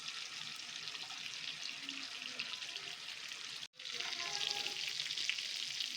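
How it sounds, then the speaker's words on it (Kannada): Bangada mackerel fish fries on a tawa under a lid, giving a steady, dense sizzle that cuts out for a split second before resuming slightly louder and crackling. "ಆ ಕಡೆ ಈ ಕಡೆ ತಿರುಗಿಸಿ ಫ್ರೈ ಮಾಡ್ಕೋಬೇಕು."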